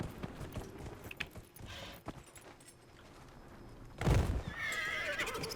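Horse in the Dragon Age Inquisition video game gives a loud whinny after a stretch of trotting clip-clop hooves, with faint mechanical clinks in between; no talking.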